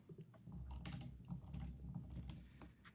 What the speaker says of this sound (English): We're listening to you type on your keyboard.